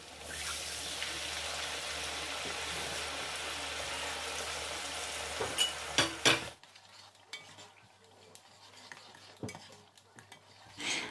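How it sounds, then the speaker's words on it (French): Tomato paste thinned with water cooks in a pot for tiebou dieune, giving a steady loud sizzle and bubbling for several seconds, then a few clinks of a utensil before it settles into quieter, faint simmering. "Je laisse cuire ensuite la tomate pendant 7 minutes."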